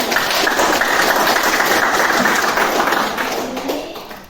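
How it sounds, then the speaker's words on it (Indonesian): A classroom of students claps their hands together in a dense, steady patter that holds for several seconds before tapering off. "tepuk tangan untuk kita semua"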